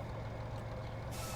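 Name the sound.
truck with air brake and reversing beeps in Farming Simulator 25 video game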